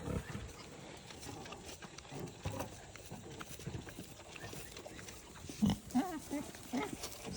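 Baby foster pigs in an enclosure give several short close grunts and squeals near the end, over rustling and shuffling, with talk nearby.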